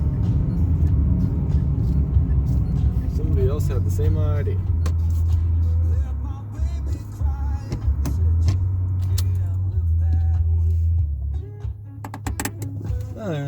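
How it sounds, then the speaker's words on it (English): Cars driving up a steep road, a close, steady low engine drone from inside a vehicle with passing motor noise from nearby cars, heard under a voice talking. "Plus there's a car catching up."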